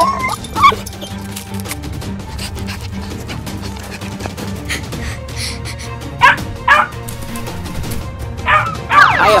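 A dog in the Roblox Brookhaven game barks and yips in several short, sharp bursts, loud and close, spread unevenly across a quieter background.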